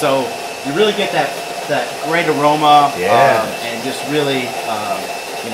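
A steady electric whirring hum of a small OXO coffee grinder grinding beans runs under close conversation between two people throughout.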